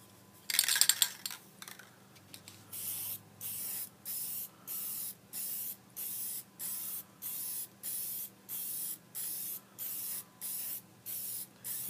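Pigmented wood finish toner is sprayed in light misting coats, heard as a steady series of short, evenly spaced hissing bursts, close and fairly quiet, after a louder initial spray.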